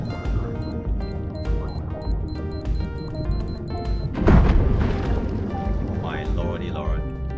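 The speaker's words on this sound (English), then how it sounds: "Now back away from the bomb for a bit." An underwater bomb goes off in Dave the Diver: a single sudden, loud blast rises out of steady game music and ambience and rumbles away for several seconds while a voice talks throughout.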